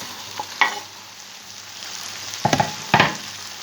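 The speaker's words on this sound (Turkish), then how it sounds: "Tekrardan karıştırıyorum." Stirring a meat, potato and mushroom stew in a pot, a steady sizzling hiss with a few scraping stirs of the spoon near the start and a couple of firmer clanks toward the end.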